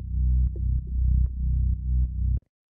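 Layered bass from a dark electronic remake, a Reese bass over a sub, plays alone in loud sustained low notes with a pulsing rhythm and short gaps, cutting off abruptly near the end.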